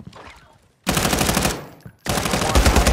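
Automatic weapon fire in Call of Duty: Modern Warfare II comes in two loud, close bursts of rapid shots, separated by a brief quiet gap.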